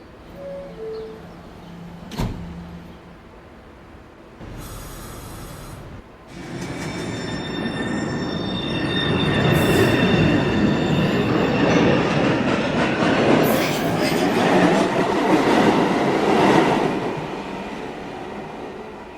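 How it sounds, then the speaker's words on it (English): An NYC subway shuttle train runs through Grand Central station, starting with a short clank and then building into a loud, steady roar of wheels and car rumble with some high screech, heard close and without talk. "There is a train approaching track. Please stand away from the platform edge."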